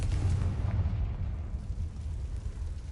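A Confringo blasting spell in Hogwarts Legacy explodes with a deep, rumbling boom that rolls on and slowly fades over a few seconds, heavy and loud, with no voices.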